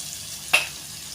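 Cabbage sautéing with tuna in a pan gives a steady low sizzle, with one brief sharper hiss of frying partway through.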